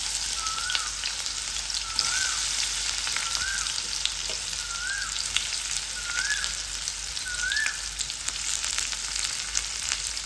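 Mustard seeds and cumin fry in hot oil with a constant crackling sizzle, close and moderately loud. Soft chirpy squeaks repeat at a regular pace over it, and no one speaks.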